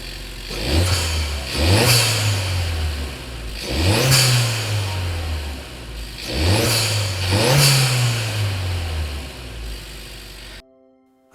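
Turbocharged small car engine fitted with an upgraded air intake, revving up four times in close succession, each rise climbing in pitch with a rushing turbo whoosh before dropping back to idle, loud and close, with no talk.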